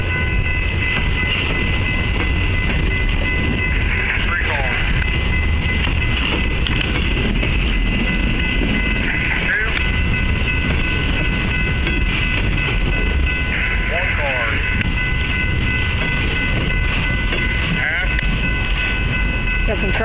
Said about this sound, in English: now they're probably going to throw the switch and put them into a yard track.